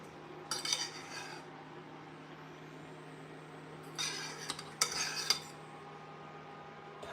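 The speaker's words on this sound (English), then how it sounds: "we're just going to give that just a little bit of a fluff" A utensil scrapes and clinks against a pot while fluffing cooked basmati rice, in two short bursts of light scraping over a steady low kitchen hum.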